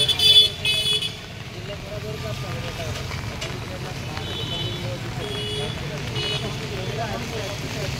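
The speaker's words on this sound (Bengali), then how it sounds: "এই যে বাস টার্মিনালটা" Evening traffic at a bus terminal on a rainy day: engines hum and car horns toot intermittently, with a louder burst at the start and people talking throughout.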